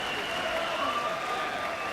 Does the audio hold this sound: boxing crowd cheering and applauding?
yes